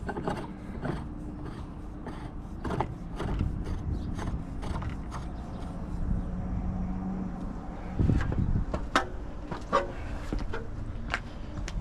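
A wrench works on a 1-inch pipe with scattered clicks, creaks and metallic ratcheting knocks at irregular intervals, fairly quiet and close, amid light background noise.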